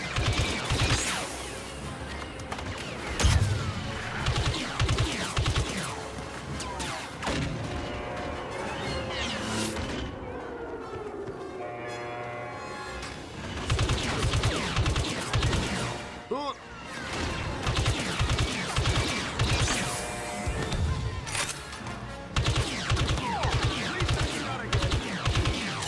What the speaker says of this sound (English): I'm fucking shooting at it.